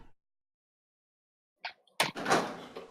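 Door opening in the Sega Saturn game Bio Hazard: after near silence, a short click, then a loud creaking swing with a low rumbling scrape that carries on to the end, clear and close with no talk.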